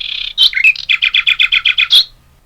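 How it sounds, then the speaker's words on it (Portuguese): A nightingale sings close and loud, opening with a few varied whistled notes before a rapid run of about ten evenly spaced, bright repeated chirps and a final sharp note. "É o som do rouxinol."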